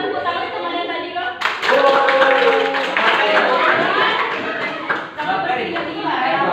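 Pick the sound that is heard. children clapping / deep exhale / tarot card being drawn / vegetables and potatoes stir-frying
children clapping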